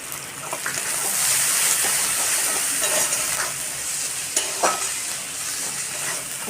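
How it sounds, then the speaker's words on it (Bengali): Spice paste frying in oil in a pan, stirred continuously, giving a loud, steady close sizzle with scraping stirs and occasional sharper clinks. "মশলাটা ভালো করে কষিয়ে নেব"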